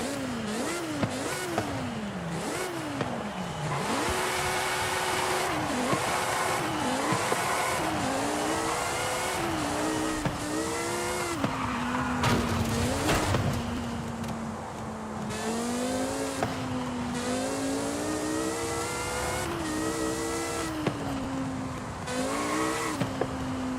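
A Porsche fitted with a V10 engine in Forza Horizon 5 revs hard through repeated gear changes, its pitch climbing and dropping in sawtooth sweeps, with brief tire squeal as the loud racing engine note dominates.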